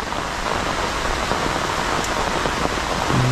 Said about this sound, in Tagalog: bumuwas na ulit yung malakas na ulan no?